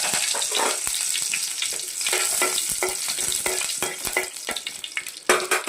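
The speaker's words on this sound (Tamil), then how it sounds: "கருவேப்பிலை கொஞ்சம் போட்டுருவோம்." Curry leaves sizzling as they hit hot oil in a pan while chutney is being made, a loud bright crackling sizzle with sharp spattering pops, stirring, close throughout, no voices.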